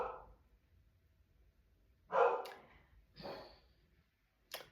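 A dog giving a few breathy, huffing barks, three short bursts spaced apart in a quiet room, fairly close.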